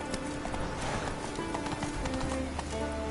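Roach, a horse in a video game, gallops steadily with a fast, even clip-clop of hooves at moderate distance, set against a humming background ambience.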